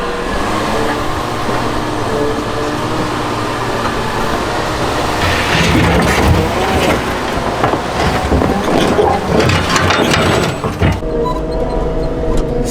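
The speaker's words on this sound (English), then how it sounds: "we're gonna get the wheel loader. Basically just try and pluck this up, see if it works." A wheel loader works to pluck up a concrete slab with no rebar, a steady heavy diesel drone building into grinding, scraping and cracking clatter midway before dropping off near the end, loud and close.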